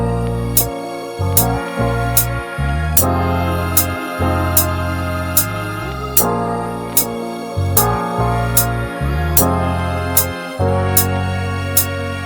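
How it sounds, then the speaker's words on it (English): A soul sample built from scratch with a simple trumpet brass line added, the horn phrases repeating over a full backing of drums and chords, loud and up front in the mix with no voices. "let's finish this off with some brass, and I'm thinking maybe trumpet, but really simple."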